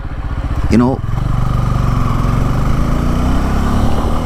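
A 2024 Bajaj Pulsar N250 motorcycle riding on a highway, its engine a loud, steady drone with a brief rising rev early on, close up against strong wind noise.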